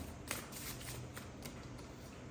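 A deck of tarot cards shuffled by hand, a fast run of soft riffling flicks, close and fairly quiet with no talk.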